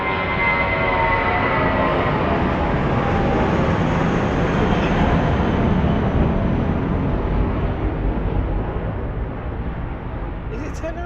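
Airplane taking off at Lisbon Airport, a loud continuous jet roar that holds steady for several seconds before easing slightly, heard from outside.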